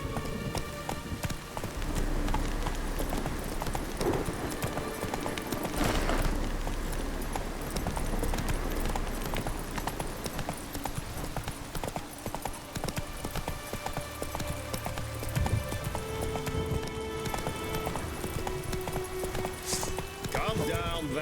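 Roach the horse gallops in The Witcher 3, hooves clip-clopping in a steady driving rhythm, close and loud, over a constant rain-like wash and game ambience that runs throughout.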